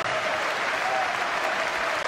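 Crowd applause at a Chelsea Legends versus Inter Forever charity football match as Hernan Crespo is substituted and leaves the pitch, a steady, dense wash of clapping filling the ground throughout.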